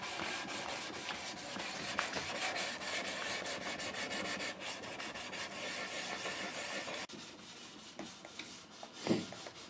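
Sandpaper rubs over primer on a Piper Cherokee wingtip in quick, steady back-and-forth strokes, close and continuous, easing off near the end with a few lighter scrapes.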